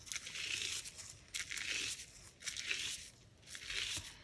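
Soft crinkling and tearing of thin tissue paper coated with clear glue comes in four separate bursts with quiet gaps between, close up and fairly faint.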